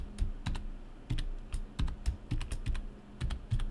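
Laptop keyboard keys pressed one by one to enter a BIOS password at boot, giving a dozen or so distinct, close clicks and thumps at an uneven pace against a quiet background.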